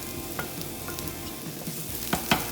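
Onions fry in a pan as garlic goes in, a continuous close sizzle with occasional stirring scrapes and two sharper clacks near the end, no one speaking.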